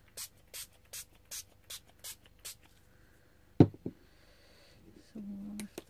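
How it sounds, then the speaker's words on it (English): Dylusions spray paint hisses over a heart stencil in a series of short, regular bursts, about seven in a row, followed by a sharp clack and handling noises, then a longer softer hiss near the end. "with the spray this time."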